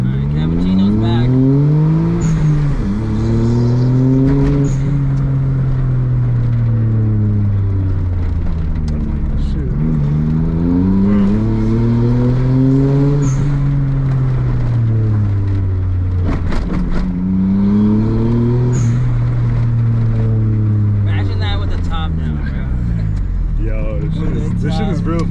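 A Suzuki Cappuccino engine idling at around 1500 rpm, a steady close drone that rises and falls in slow waves, with someone talking over it.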